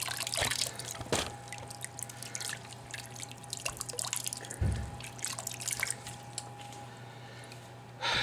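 Rusty coolant water draining from a 1994 Saab 9000 engine, an uneven run of drips, splashes and trickles with small squishy bursts, fairly close and with no talking.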